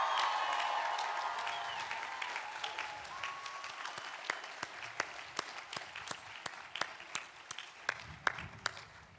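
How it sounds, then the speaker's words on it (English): Applause for School of Education graduates at a university commencement ceremony, beginning as a broad crowd clap and thinning into scattered, distinct individual claps that echo in a large space. "can we have a final round of applause for all of the graduates from the School of"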